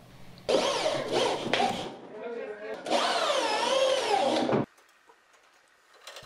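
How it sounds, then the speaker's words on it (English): An electric screwdriver drives hairpin leg screws into a vintage wooden dresser being restored, heard as two close whirring bursts of a couple of seconds each, separated by a short pause and followed by quiet. "I can just screw in the screws with my electric screwdriver that I have now"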